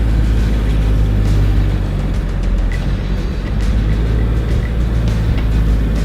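A small-engined car fitted with giant tractor tyres drives along a road, giving a loud, steady low engine rumble and rolling noise close by without a break.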